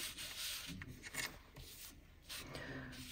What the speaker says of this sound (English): I'm just rubbing the gilding flakes into the glue.